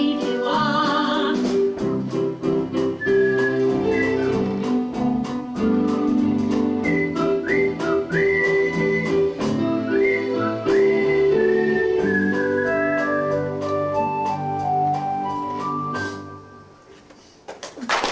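A person whistles a lilting tune whose melody rises and slides over full, sustained musical accompaniment, then fades near the end.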